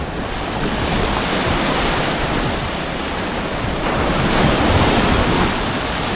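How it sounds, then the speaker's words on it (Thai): Sea waves break and wash continuously on a Koh Samet beach in Thailand, loud and close, with strong wind buffeting the microphone and a slight surge in the middle, no voices. "นี้มีลมนะครับ ก็เลยมีคลื่นเมื่อวาน"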